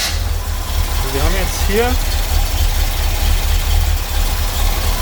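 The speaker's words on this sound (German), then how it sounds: "Lukas, starten wir den Motor" A Corvette C3 engine idling under restoration, a steady low rumbling throb throughout while someone speaks over it close by.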